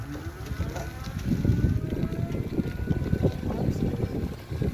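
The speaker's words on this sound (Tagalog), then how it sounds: "Lamig na hangin." Steady wind rumbles and buffets a microphone outdoors, a continuous low roar with a faint engine-like drone underneath.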